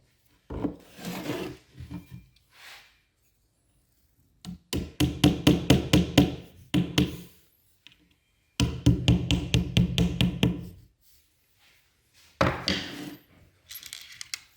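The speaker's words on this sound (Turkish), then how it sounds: "Bunun uç kısmındaki deliğe ve diğer kısımda aynısının uç kısmındaki deliğe kavilyalarımızı taktık." Wooden dowels are pushed and tapped into pre-drilled holes while assembling a Modilayn ARD500 Aden two-door, two-drawer wardrobe, giving close clusters of rapid wooden knocks and scraping rubs in several separate bursts with short pauses between.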